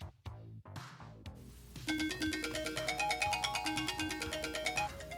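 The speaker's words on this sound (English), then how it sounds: "Turn on a timer for 5 seconds." An iPhone's Siri timer alarm goes off with a bright, repeating electronic chime pattern after a few soft clicks, ringing continuously and fairly loud until the clip ends.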